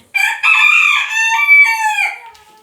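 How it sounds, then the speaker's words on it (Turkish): A loud, close crow from a bantam chicken rings out in one long drawn call, clear and alone with nothing else behind it. "Bir sürü tavuklar var."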